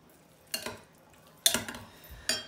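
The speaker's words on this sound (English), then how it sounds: "And then we're gonna stir this around." A spoon clinks and scrapes three times against a bowl while an egg is stirred into melted fathead pizza dough, the strokes short and separated by quiet.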